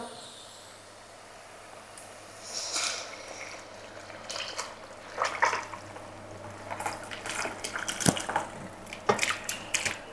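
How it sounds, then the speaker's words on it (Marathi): Chicken stock from boiled chicken poured into fried ground masala paste for Kolhapuri tambda rassa, a soft splashing and dripping pour that swells and trickles irregularly at close range, with a steady low hum underneath. "आता आपल्याला ह्याच्यात आपण चिकन शिजवलेलं जे पाणी आहे ते ओतायचं"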